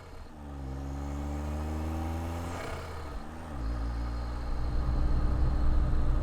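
Small Suzuki kei car engine droning steadily while driving, its pitch rising through the revs, dipping briefly at a gear change, then climbing again, loud and close with no talking.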